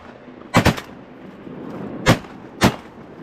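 Gunfire from an in-game firefight against opponents: a quick double shot, then two more single cracks spaced apart, loud and close over a low background rumble.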